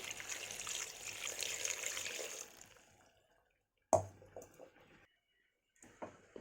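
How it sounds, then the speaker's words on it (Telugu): Water is poured into a pot of gongura (sorrel leaf) dal seasoned with salt, turmeric and chilli powder. A steady splashing pour runs for about two and a half seconds, then fades to near silence broken by a few light clinks. "సరిపడా వాటర్ పోసుకోవాలి."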